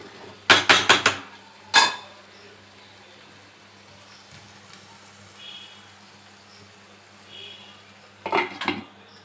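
A lid clatters onto a pot of chicken malai curry cooking in milk, a few quick metallic knocks and rattles near the start, another sharp clink, then a quiet stretch before a last short burst of clanks.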